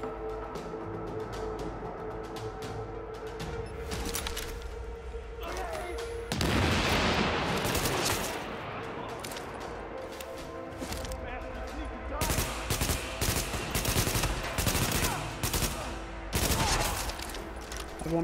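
Gunfire in Tom Clancy's The Division, with rapid automatic bursts and dense volleys of shots in several stretches, loud and close, mixed with game sounds and someone talking at times.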